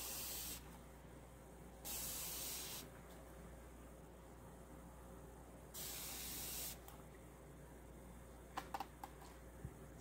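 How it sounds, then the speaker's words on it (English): A fine mist sprayer releases 99% alcohol in two short, close hissing bursts, followed by a few faint clicks in an otherwise quiet room. "I'm going to spray this all with the alcohol now and see if anything comes up interesting"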